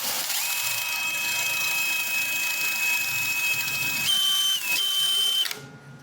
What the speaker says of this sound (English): we want to use a wire wheel